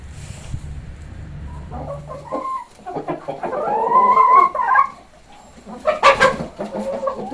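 A chicken clucks close by in a yard, a series of short, uneven clucks and squawks rising into louder bursts, with quiet outdoor background between calls.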